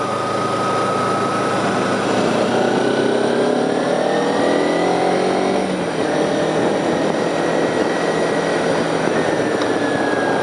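Motorcycle riding along a road in fog, a steady, loud engine drone with wind noise and shifting engine pitch, continuous for the whole stretch with no speech.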